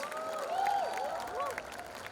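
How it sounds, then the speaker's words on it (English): Audience applause at a Mumbai Comic Con session after a dramatic Hindi monologue, a steady wash of crowd clapping with a voice speaking over it. "round of applause"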